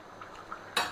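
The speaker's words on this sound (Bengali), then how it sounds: "এখন তরকারিটা ঢেকে দেব" A lid clanks once onto a cooking pot of rui fish curry with cauliflower and potato, a single brief, soft metallic knock in a quiet kitchen.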